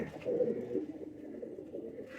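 Banded pigeons, a male and female pair, coo softly in a low rolling murmur, close and steady, with no voices.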